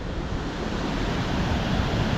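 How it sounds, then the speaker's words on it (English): A small waterfall on a little river in Kuldīga, Latvia, flowing into the Venta River, gives a steady broadband rush of falling water that is close and continuous, with no talking. "it has a waterfall that comes down and will empty into the main river, the Venta River"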